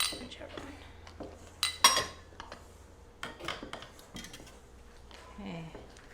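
Metal and wooden kitchen utensils clink and knock against bowls and pans while cookie dough is prepared, in scattered sharp taps and scrapes with quiet speech in the background.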